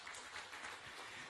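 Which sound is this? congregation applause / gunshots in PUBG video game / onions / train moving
congregation applause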